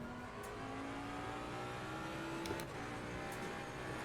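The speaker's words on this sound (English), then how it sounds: "have a listen to that Jag engine" Jaguar race car in Assetto Corsa Competizione, engine running steadily on cold tyres during an out lap, a continuous mid-level drone with a slowly rising pitch and a few faint clicks, no talk.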